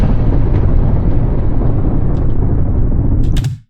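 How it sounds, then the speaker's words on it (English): A stock explosion sound effect from a green screen clip: a loud, dense low rumble sustained for several seconds before fading quickly, with no speech. "I'm using a green screen clip of an explosion"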